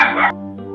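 A single short, loud dog bark rings out over a steady sustained tonal hum that continues after it fades.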